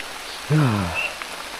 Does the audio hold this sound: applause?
no